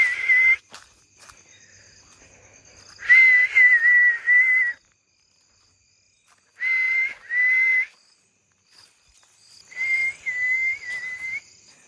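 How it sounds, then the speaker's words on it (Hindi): A person whistling in a graveyard at night, three separate bursts of a steady high whistled tone with slight warbling, separated by near silence, with faint rustles and a soft high hiss in the background. "तो एक काम करते हैं, अभी एक एक कर थोड़ा बहुत राउंड लेते हैं और सीटी बजाते हैं।"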